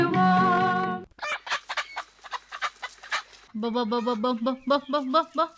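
Farm chickens that are refusing their feed cluck and squawk in quick, uneven bursts, loud and close, with one drawn-out cackle at the start and no talking.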